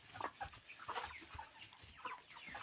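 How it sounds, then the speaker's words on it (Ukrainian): Cobb 500 broiler chickens cluck in short, scattered bursts close by, a busy little flock murmuring without pause. "Така курка."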